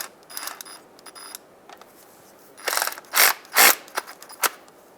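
A ratchet tool snugs up a bolt on a Mazda CX-9 during a crankshaft sensor replacement, with short bursts of ratcheting clicks separated by pauses and the loudest strokes near the end.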